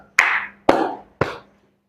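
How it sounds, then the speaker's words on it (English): Three sharp hand claps, evenly spaced about half a second apart, close and loud, each with a short ringing decay in a room, no talking. "once I clap my hands 3 times"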